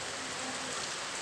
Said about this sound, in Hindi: ये साइड में फुल ज़ोर से बारिश शुरू हो गई है